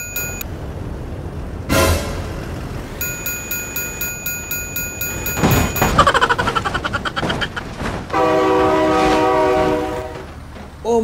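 Game-engine train from BeamNG Drive rolling past with rhythmic wheel clatter, a loud sustained horn blast near the end, and bursts of crashing noise along the way.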